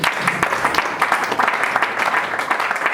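A church congregation applauding, a dense, loud wash of many hands clapping continuously, with a few voices mixed in.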